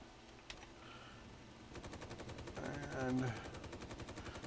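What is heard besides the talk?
gunfire in the video game Space Engineers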